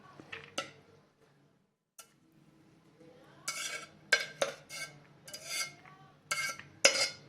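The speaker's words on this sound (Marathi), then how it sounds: "आता हे शिजलेला अर्धवट शिजलेला तांदूळ चाळणी चाळणीमध्ये काढून घेऊया" A metal pot is scraped while half-cooked rice is tipped into a colander. Scrapes and clinks come in short irregular bursts and stay close and moderately quiet, with short pauses between them.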